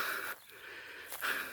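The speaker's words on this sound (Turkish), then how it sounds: "Soluk soluğa." Heavy panting from a person climbing a steep uphill path on a mountain herb-gathering walk, breathy wheezing gasps close to the listener, pausing briefly midway before picking up again.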